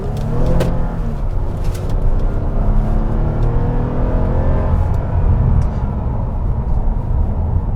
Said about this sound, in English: you are going to be spinning the front tires when you kind of mash it with the traction off